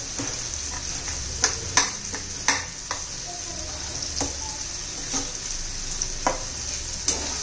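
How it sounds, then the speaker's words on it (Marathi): Chopped spring onion greens sauté in a pan for an aubergine bharit, giving a low, steady sizzle under repeated sharp scrapes and taps of a spatula stirring them. "कांद्याची पात चांगली परतून घेऊ होईपर्यंत 1-2 मिनिट"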